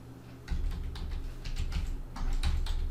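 Keys clack on a computer keyboard during a Photoshop CC 2018 tutorial, a handful of separate taps close by and moderately loud, one of them the Enter key.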